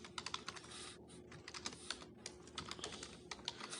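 Fast, quiet clatter of keys as C# code is typed on a computer keyboard, with irregular bursts of clicks and brief pauses and no talking.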